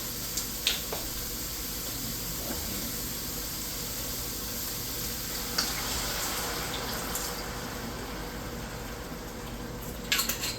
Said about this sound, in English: Now I'm going to add my white wine first.